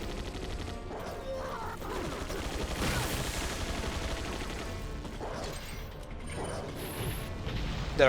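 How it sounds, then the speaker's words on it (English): Turret gunfire in the video game Resident Evil 4, a dense, continuous mechanical rattle of shots throughout with a few louder bursts, heard under game ambience. "There are panels to shield you from the turrets, so make a note of where they are so you don't suddenly get sniped by the gunfire."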